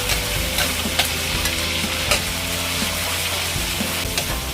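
Meat being stir-fried in a hot pan with green beans, a steady loud sizzle broken by repeated scraping clinks of the spatula throughout.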